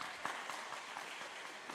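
A brief, fairly soft burst of audience applause at a church Advent lecture, a short wash of many hands clapping at a steady level.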